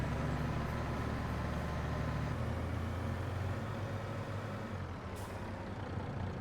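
A grain truck in the retro farming game Harvest 1985 drives along, its engine a steady low rumble with a brief hiss toward the end, like brakes being applied.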